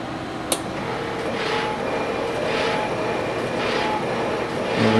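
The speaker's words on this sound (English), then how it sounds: "So I thought I'd show you what it looks like when it laser engraves." A laser engraver etches glass with a steady whirring, droning hum, a sharp tick near the start and soft rhythmic swells as the head passes back and forth. No one speaks.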